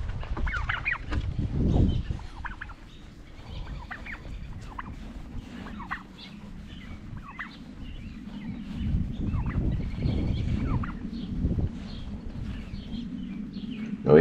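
Turkeys and other fowl in a homestead goat yard gobble and call repeatedly at close range, layered over outdoor background noise.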